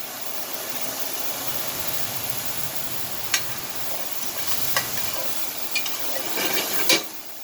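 Garlic cooking in a pan holding browned beef fond for a beef ragu, a soft steady sizzle with a few sharp clicks and taps from a utensil scattered through, close and fairly quiet, with no talking.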